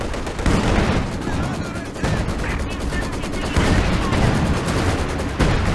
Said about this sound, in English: Long hits from the AT guns here.